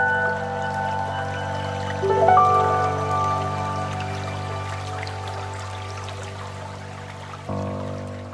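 Irrigation water flows into a wheat field with a steady trickling stream, mid-distance and moderate, accompanied by a constant tonal hum and occasional brief clunks.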